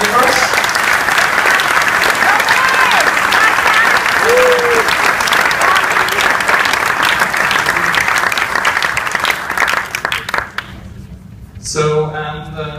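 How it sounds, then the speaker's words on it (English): Conference audience at a European Innovation Academy panel gives loud sustained applause for panel members, dense clapping for about ten seconds that fades out, then a voice begins speaking. "please give a big supportive applause for our panel members"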